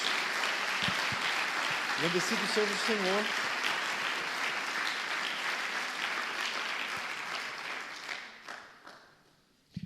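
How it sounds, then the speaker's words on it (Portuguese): A church congregation clapping in praise, a full burst of applause and cheering that runs several seconds, with a voice speaking over it before the clapping fades out. "Então dê uma salva de palmas ao Senhor."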